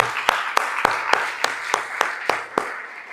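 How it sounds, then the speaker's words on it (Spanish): Church congregation clapping for the Lord during a sermon, a steady rhythmic beat of sharp, evenly spaced claps over a soft crowd wash, roughly three per second, close and moderately loud. "le damos un aplauso al Señor"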